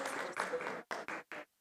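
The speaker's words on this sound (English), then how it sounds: "Please welcome him with a big round of applause." Conference attendees at a net zero power system event give brief applause to welcome a session chair: a dense burst of clapping, then three short choppy bursts separated by silence.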